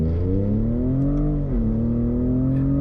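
A truck engine revs and holds a deep, steady drone, its pitch climbing then dipping briefly before settling again, loud and close throughout.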